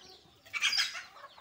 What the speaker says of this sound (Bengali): মুরগিগুলোকে খাবার দিয়ে দিলাম